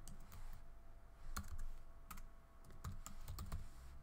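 Quick, light keystrokes tap on a computer keyboard in irregular bursts, close and fairly quiet with no voice over them.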